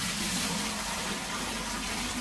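Water gushes steadily into a bucket being filled for cleaning a split air conditioner, a dense, continuous rushing splash heard close and loud with no talk.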